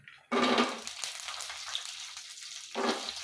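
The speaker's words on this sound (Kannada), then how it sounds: "ನಾನು ಇವಾಗ ಈಸಿಯಾಗಿ ಆಗೋಕ್ಕೋಸ್ಕರ ಈರುಳ್ಳಿ, ಶೇಂಗಾ ಬೀಜ ಹಾಕ್ತಾಯಿದ್ದೀನಿ ನೋಡಿ" Sliced onion and peanuts tipped into a hot oiled pan, a loud burst of sizzling frying that settles into a steady crackle, then surges again near the end as the pan is stirred, with no talk.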